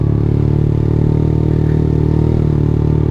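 A motorcycle engine idles close by in a steady, loud low rumble with an even rhythmic putter, alone without talk.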